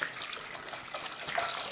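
Water splashes and runs steadily into a pan holding baby carrots, a soft continuous pour with a slight swell near the end, close and fairly quiet.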